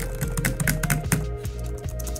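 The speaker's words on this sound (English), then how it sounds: "quite frankly, the butterfly keyboard's a lot louder" A MacBook butterfly keyboard is typed on steadily, its sharp, loud clicky keystrokes coming in a quick uneven rhythm close to the microphone, with no voices.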